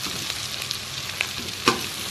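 Onions sizzle in hot used oil for mutton biryani, a steady crackling fry with a few sharp pops and spoon-stirring clinks, close and continuous.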